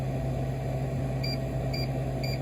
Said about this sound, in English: So one beep sound you will get, that indicates that program 3 it is fixed